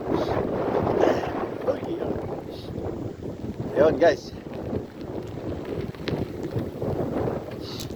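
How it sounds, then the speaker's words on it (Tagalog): Strong cold wind, like a storm, buffeting the microphone outdoors in a steady roar with gusts, while someone speaks briefly over it. "malamig at saka napakalakas ng hangin, parang may bagyo."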